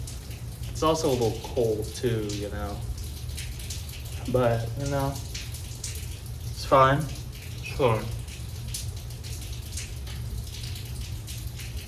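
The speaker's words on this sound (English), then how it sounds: "Right now it's raining." Steady rain falls outdoors as a soft, even hiss beneath a person talking in a relaxed voice.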